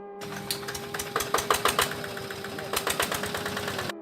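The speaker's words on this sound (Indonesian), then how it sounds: "Bunyi suara keras mesin di dalam pabrik beras yang tiba-tiba menyala." A rice mill machine inside a mill starts up, running with a steady hum and irregular rattling, knocking bursts, fairly close and moderately loud.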